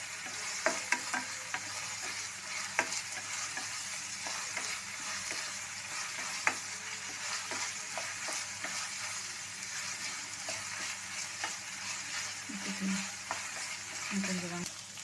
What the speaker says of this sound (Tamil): கொஞ்சம் வெங்காயம் நல்லா வணங்கிடுச்சு.